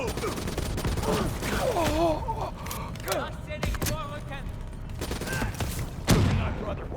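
Machine gun nest firing in a Call of Duty: Black Ops III battle, rapid bursts of gunfire mixed with shouting voices and combat noise, loud and continuous with a heavy blast near the end.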